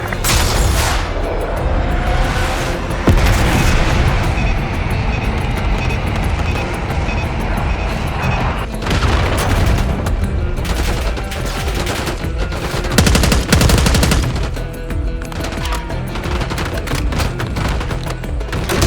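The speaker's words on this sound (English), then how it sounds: "Come on, soldier, call the airstrike!" Heavy gunfire and explosive blasts from the video game Call of Duty Black Ops 6, with dense bursts of automatic fire and booming impacts that continue loudly and steadily, punctuated by bigger blasts near the middle and end.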